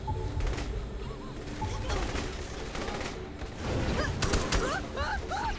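Gunfire in Saints Row The Third as sporadic shots and short bursts over a busy background, with a few chirpy tonal effects toward the end and brief talk in between.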